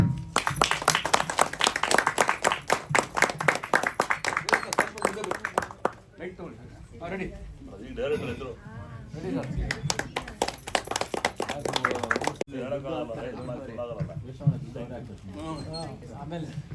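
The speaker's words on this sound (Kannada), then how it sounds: "ಜೋರಾಗಿ ಚಪ್ಪಾಳೆ" Loud, dense applause from an audience at the Dhruva Tare film audio launch event fills the opening seconds, then gives way to people talking over a crowd murmur.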